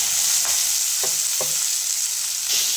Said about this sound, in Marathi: यातच आपण कट करून घेतलेली पालक टाकून घ्यायची.